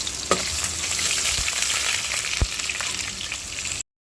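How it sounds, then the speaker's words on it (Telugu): Onion frying in a pan, a steady close-up sizzle and crackle with a few light scraping knocks of stirring, running continuously before cutting off abruptly. "ఆనియన్ తీసుకుని అయితే బాగా ఫ్రై చేస్తాం"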